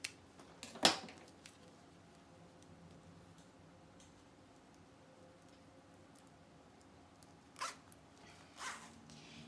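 A few quick pulls of a zipper slider on a handbag, one near the start and two near the end, with quiet pauses in between.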